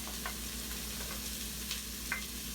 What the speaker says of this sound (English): Now, these are supposed to saute for about 5 minutes.